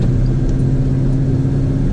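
A Chevy Suburban cruises along with a steady, close engine hum and road rumble that barely changes over a couple of seconds. No voices are heard.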